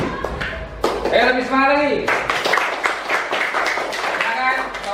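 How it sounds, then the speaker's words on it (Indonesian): Classroom students applauding a presenting group, a lively burst of many hands clapping that runs throughout, mixed with a teacher's voice speaking and children's voices over the claps. "kita berikan tepuk tangan untuk kelompok 3"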